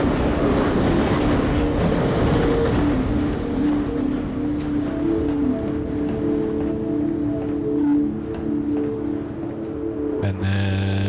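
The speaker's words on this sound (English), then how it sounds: "Okay, that sounds like a train." A train rumbles past in the video game Half-Life 2, a loud, sustained rolling rush with steady low tones and rattling, fading near the end before a sharp shift in sound.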